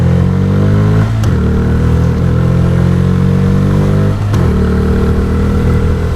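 A Bajaj Freedom 125 CNG motorcycle engine, running on petrol, hums steadily and revs as the throttle opens, with two brief dips in pitch where the throttle is released and reapplied. Close and loud.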